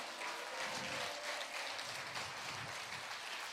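A church congregation claps steadily in a dense, even wash of applause, faint and distant throughout.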